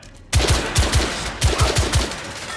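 Rapid gunfire in The Order 1886, a close, loud burst of about ten heavy shots in quick succession.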